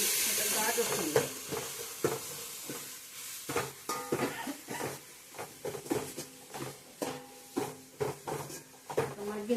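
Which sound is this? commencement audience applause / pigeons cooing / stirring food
stirring food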